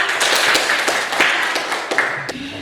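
Classroom applause during a teaching practice lesson, a small group clapping in uneven, distinct slaps that stay fairly close and loud before thinning out at the end.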